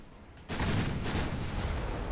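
Naval gunfire in the warship game Ultimate Admiral Dreadnoughts, with a loud, booming broadside that erupts suddenly after a quiet moment and rolls on as a sustained heavy rumble.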